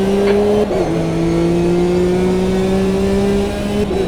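A race car engine in the racing game Automobilista 2 drones steadily at high revs during a rolling start, its pitch holding a sustained tone with a brief dip and shift early on, loud and continuous with no talking.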